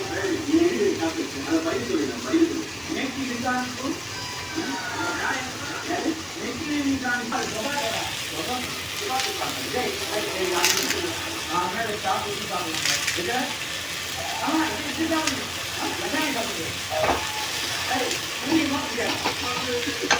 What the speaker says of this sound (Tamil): நம்ம வதக்கும் போது அது எல்லாமே சேர்ந்து நல்லா வதங்கிடும்